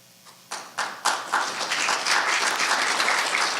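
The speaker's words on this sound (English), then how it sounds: "I like the applause in between." A business forum audience breaks into applause, starting with a few separate claps that quickly swell into steady, dense clapping from the whole room.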